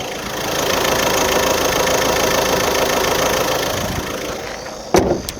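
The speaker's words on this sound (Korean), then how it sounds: "디젤 엔진이 탑재되어 있음에도 불구하고 너무나 정숙한 엔진을 갖고 있는 차량이었습니다" The diesel engine of a used family car idles steadily and fairly quietly, heard up close with a low even rumble, until a sharp knock near the end.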